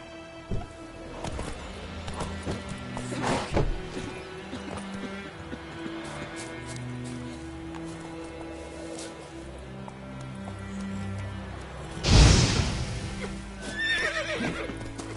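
Horse hooves clop and a horse neighs loudly in The Witcher 3, with a rhythmic galloping gait over game music and ambient sound, and a sharp burst near the end.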